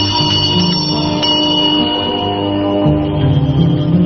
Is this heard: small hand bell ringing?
yes